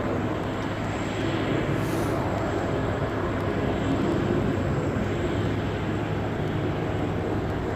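Lynden Air Cargo aircraft landing at Ted Stevens International Airport in Anchorage, a sustained loud engine roar with a low hum underneath and a brief swell near the start, nearby and with no one talking.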